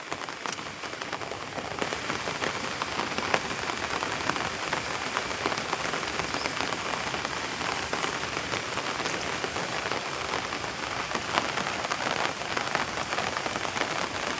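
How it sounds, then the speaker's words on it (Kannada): Heavy rain pours down steadily outdoors where water has pooled everywhere, a dense, unbroken hiss of drops hitting the ground that stays loud and even with no other sound over it. "ಈ ಥರ ಮಳೆ ಬಂದರೆ ಮಾತ್ರ ಸ್ವಲ್ಪ ಕಷ್ಟ ಅಲ್ವಾ"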